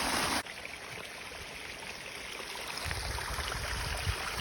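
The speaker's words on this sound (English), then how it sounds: "at the top of another waterfall." Water rushes steadily over the lip of a waterfall on a creek in the Hocking Hills, a constant close broadband roar that swells slightly toward the end, with no voices.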